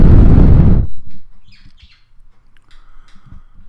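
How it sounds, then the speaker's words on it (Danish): Breath blown straight into a Blue Snowball USB microphone with no pop filter makes a loud, booming rumble of air for just under a second. Quiet room noise follows. "Og nu ved at prøve at puste uden popfilter."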